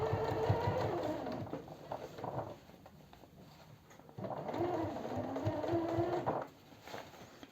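Sewing machine stitching a denim sports bag, two bursts of rapid rhythmic stitching close up, separated by a short pause and quiet handling.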